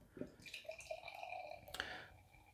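Barrel-aged coffee Russian Imperial Stout, Griffin Claw Flying Buffalo (2018), poured from the bottle into a glass: a close, wet, trickling pour with gurgles and drips that runs steadily, then tapers off.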